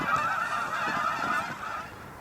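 Canada geese honk repeatedly in a steady, overlapping chorus, moderately distant, with no voices.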